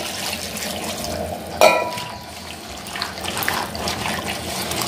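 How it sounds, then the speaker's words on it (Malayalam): Water pouring into a cooking pot while Kerala aviyal cooks, a steady close splashing flow with one sharp clunk near the middle. "നമുക്ക് വെള്ളം ചേർക്കാം."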